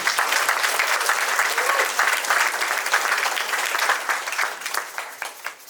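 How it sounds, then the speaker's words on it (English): A dense, sustained round of applause from a graduation audience honoring participants of a community re-entry program, steady and loud throughout with a few voices mixed in. "Would you please give another round of applause for those participants?"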